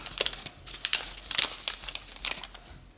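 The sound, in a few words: origami paper being folded and creased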